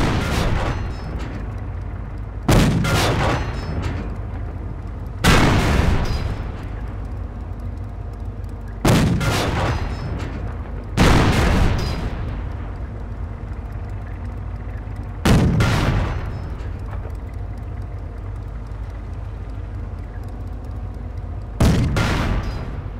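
Tank battle in the Company of Heroes video game: heavy cannon shots boom about every two to three seconds, each loud blast decaying into a rumbling tail over a low continuous drone; no talking.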